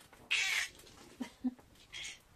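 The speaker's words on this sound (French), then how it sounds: "voici les chats" Cats indoors make a loud drawn-out meow, then a couple of short faint chirps and a second softer meow, with no talk over them.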